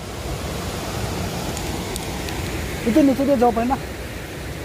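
A river in White Water Village, Meghalaya, gives a steady, broad rush of flowing water that fills the background while someone speaks briefly over it.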